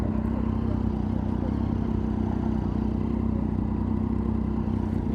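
A Triumph motorcycle engine runs close by with a steady, throbbing low drone and mechanical clatter, holding an even pitch throughout.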